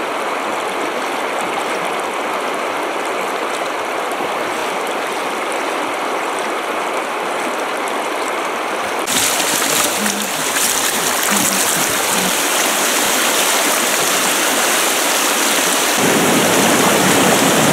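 A mountain river in the Verkhoyansk Range pours through a narrow passage toward a rapid, a loud, continuous rushing roar that swells further partway through.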